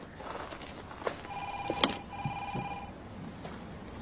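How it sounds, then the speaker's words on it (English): A telephone ringing tone heard on a call, with a single muffled ring of about a second over low room noise and faint knocks, with no one speaking. "I'll try ringing him again."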